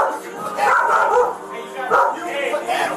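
A dog barks up close during a tense confrontation with police at a store, its loud yelps tangled with shouting voices.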